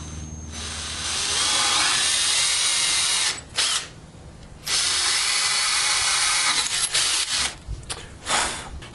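A power drill whirs steadily as it bores holes, pausing briefly a couple of times before starting again, loud and close with no talking.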